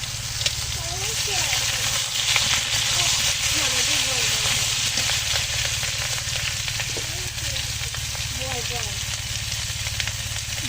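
Potatoes, bottle gourd and green chillies fry in a pan with a steady, loud sizzle and hiss that runs the whole time, with occasional stirring scrapes and a voice talking over it.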